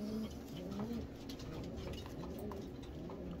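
A young racing pigeon, about two months old, coos softly in a loft, low burbling calls repeating against a faint background hum, fairly quiet and close, with no talking.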